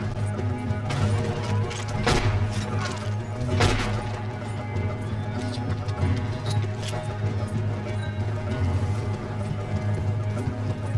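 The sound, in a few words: horse hooves from video game Red Dead Redemption 2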